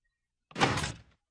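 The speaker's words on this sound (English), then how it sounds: "This is how you load the cannons." A cannon on a battleship is loaded in the Minecraft video game, giving a single short, hollow thunk-like clunk that starts abruptly and fades within about half a second, with silence around it.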